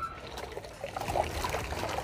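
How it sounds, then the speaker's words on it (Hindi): A cloth used for washing a car is dunked and soaked in a bucket of clean water, producing soft trickling and sloshing sounds with small splashes, fairly quiet and close. "और इसको अभी साफ़ पानी में एक बार भिगो लेंगे।"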